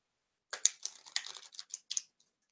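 A quick run of crisp flicking and riffling sounds as tarot cards are shuffled, close and soft, lasting about a second and a half before trailing off.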